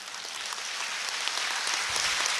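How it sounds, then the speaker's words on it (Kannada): An audience at a history seminar and book launch applauds after a speech, a dense, even clapping that builds slightly in loudness without any voices. "ಚಪ್ಪಾಳೆ ಶಾಖ ಈ ಭಾಷಣಕ್ಕೆ"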